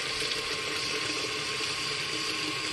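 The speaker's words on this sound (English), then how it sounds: "we're going to put some hot water on it, because hot water will absorb into the potting soil faster than cold water." Hot water pours onto potting mix for seed starting, a steady, close, broadband splashing rush that runs unbroken.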